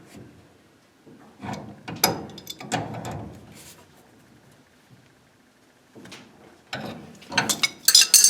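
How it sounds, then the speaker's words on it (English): Wrench tightening the nut on a replacement gas supply line: irregular metallic clicks and scrapes in short bursts, close and moderately loud, with quiet gaps between and a sharper clatter near the end. "we're going to hold the nut on the bottom and we'll tighten this up till it's snug."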